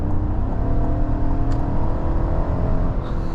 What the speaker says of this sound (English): this thing still has that awesome burbly V8 sound